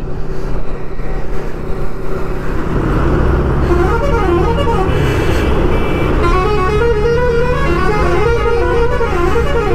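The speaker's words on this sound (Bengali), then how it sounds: "কি হর্ন দিচ্ছে রে ভাই এরা," Loud, continuous traffic on the Kolkata–Balasore highway, with buses, cars and trucks droning past while horns blare repeatedly, some in long sustained tones and others in quick toots, close at hand.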